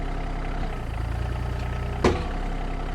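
A small tractor engine idles nearby with a steady low rumble, holding even throughout, with a brief clunk near the end.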